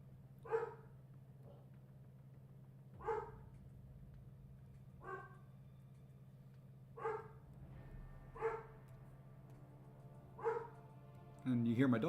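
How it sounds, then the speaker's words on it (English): A dog barks indoors in single, separated woofs, about seven across the stretch and spaced a second or two apart, heard at a moderate distance over a low steady hum. "And you hear my doggy barking."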